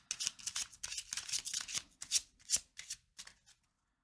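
A deck of tarot cards is shuffled up close, with a quick run of crisp riffling bursts that slow into a few separate flicks and then stop. No voices.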